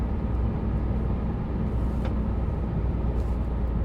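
A furniture delivery truck rolls along the road toward Linz, a steady low engine drone and tyre rumble heard from inside the cab, continuous and fairly loud with no talk.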